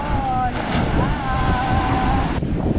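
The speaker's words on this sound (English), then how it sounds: "Look at this sea." Sea waves washing onto the shore at Santa Maria on Sal, Cape Verde, a steady broadband roar mixed with wind buffeting the microphone, with a voice speaking briefly over it.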